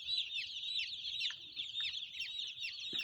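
About 1,750 chickens on a poultry farm cluck and chatter together in a continuous flock chorus, with occasional sharper calls standing out.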